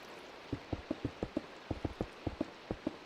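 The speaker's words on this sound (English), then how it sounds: "I also am pretty sure it's raining now." Soft, irregular pattering taps, like raindrops striking a surface, repeat in quick succession against a quiet background hiss.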